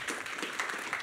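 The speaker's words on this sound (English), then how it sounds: "Another round of applause, please." An audience applauding the speakers at a conference session on AMI lessons learned, a soft, distant spread of clapping with no voices over it.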